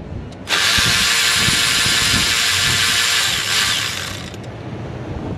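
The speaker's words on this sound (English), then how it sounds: "Okay, now let's take all the bolts out." Ratchet wrench loosening bolts on the EGR valve of a Ford 6.7 Power Stroke diesel engine, a loud continuous rapid clicking that starts after a brief pause and runs steadily, easing slightly toward the end.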